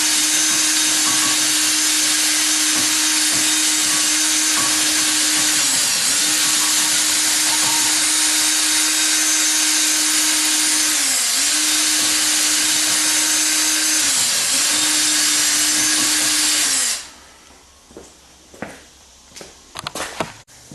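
Loud, steady whine of a wire wheel scrubbing rust off lug threads during a 2011 Cadillac CTS AWD front hub job, dipping briefly several times before cutting off, followed by a few faint clanks.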